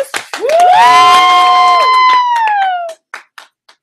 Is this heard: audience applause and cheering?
yes